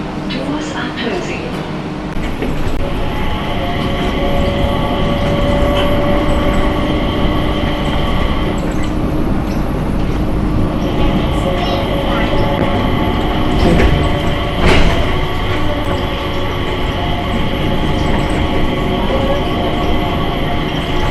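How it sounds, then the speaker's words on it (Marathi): An airport Skytrain in Singapore heading to Terminal 2 hums and rumbles steadily throughout, with a sustained electric whine and faint clatter, loud and close as if riding aboard. "स्काय ट्रेन लागलेलीच आहे, बघूया आता."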